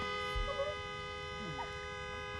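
A stuck car horn blares in one continuous, unbroken tone, fairly quiet, with brief muffled voices underneath.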